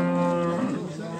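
A cow lets out one long, close, sustained moo at the Uchkun livestock market, the call steady and loud against faint market background with no talk.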